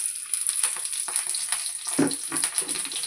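Five-spice seeds and green chilies frying in hot oil for a potato-pumpkin curry, a close crackling sizzle with rapid pops and spits and a louder splutter midway, no talk.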